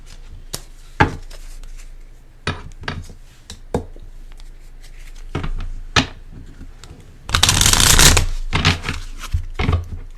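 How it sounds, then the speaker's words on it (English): Tarot cards are shuffled and drawn close up, with scattered sharp taps and flicks followed by a longer, louder riffling burst, and no talking. "I'm gonna pull one more card here"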